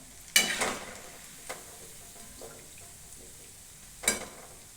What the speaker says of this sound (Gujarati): ડુંગળીના ભજીયા તો હવે આપણે તેને ચારાની મદદથી તેલમાંથી બહાર કાઢી લેશું